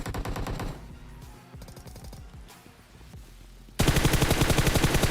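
Automatic gunfire in the PUBG battle royale video game: rapid, rhythmic bursts of loud shots. A full-volume close burst opens the clip, quieter distant volleys follow, and a very loud near burst ends it.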